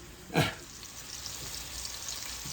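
Pork chops frying in a pan, a steady close sizzle with a sharp crackling burst near the start, then an even hiss of hot fat continuing alone.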